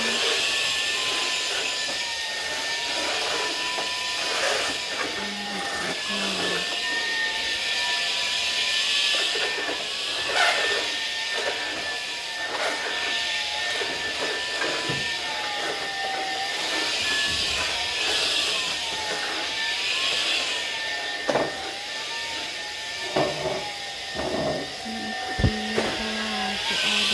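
A vacuum cleaner runs continuously in a room with a steady high whine whose pitch wavers slightly over a long stretch, with occasional knocks and thumps underneath.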